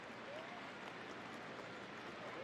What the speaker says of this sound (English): Round of applause from the Revolution supporters.